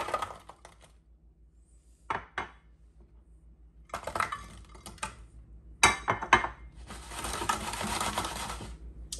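Frozen Starburst-coated grapes tossed onto a tray give scattered hard clicks and clattering bounces, starting sparse and soft, then growing into louder, denser rattling bursts close by.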